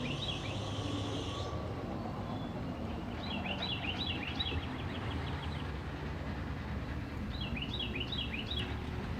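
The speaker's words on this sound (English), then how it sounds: "A good line of auto racks. This is Q224 heading north." A northbound freight train hauling a long line of auto rack cars rolls past with a continuous low rumble and steady wheel noise, while birds chirp in short repeated bursts above it.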